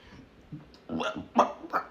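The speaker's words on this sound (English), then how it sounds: "Excuse me, confirmation burp." A short burp, a few throaty voiced bursts close to the microphone in a quiet room.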